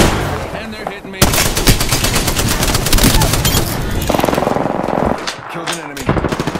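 Rapid automatic gunfire rattles loud and close in an Apex Legends match, long dense bursts with short pauses between them and a few heavier single shots near the end.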